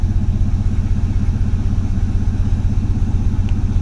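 Engine fitted with a Chinese chokeless four-barrel carburetor, running in sub-30-degree cold, settling into a steady idle: a loud, close, evenly pulsing low throb that never changes pace.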